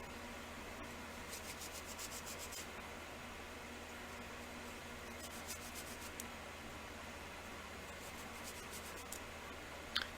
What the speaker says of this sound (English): I'm going to wipe these down.